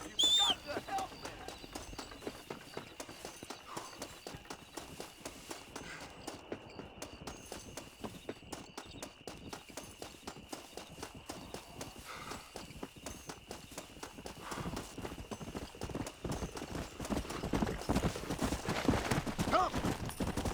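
Horse hooves clip-clop in a fast, steady rhythm in the Western video game Red Dead Redemption, continuous and close throughout, growing louder toward the end, with no clear neigh.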